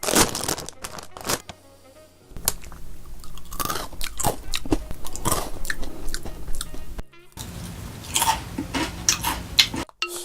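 Someone bites into wasabi-flavoured Karamucho potato chips, giving loud, close crunches followed by bursts of chewing, broken by short pauses, with a little talking between bites.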